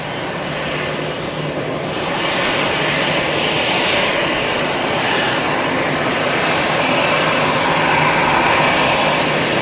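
Airliner engines roar loudly and steadily at Manchester Airport, a broad continuous rumble swelling slightly as the aircraft passes, with no talk over it.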